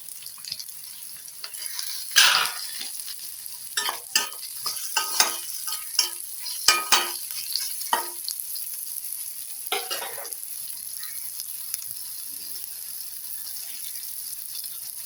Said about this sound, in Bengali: পেঁয়াজটা দিয়ে একটু সময় আমি এগুলোকে একটু ভেজে নেব